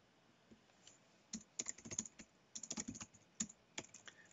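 Keys clatter on a computer keyboard in quick bursts of typing, fairly close and clear, with short pauses between runs and no voices.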